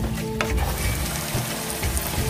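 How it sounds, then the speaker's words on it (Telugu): Tomato pieces frying in a pan for butter brinjal curry give a dense, continuous sizzle with a few sharp utensil scrapes, close and loud, no talking. "ఇవి కూడా బాగా వేయించేసుకుందాము ఎర్రగానే అదే మెత్తపడాలండి"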